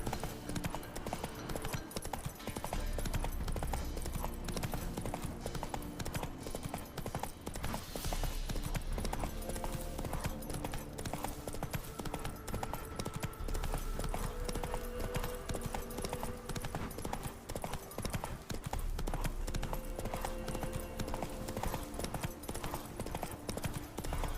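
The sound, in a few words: horse galloping hooves in video game The Witcher 3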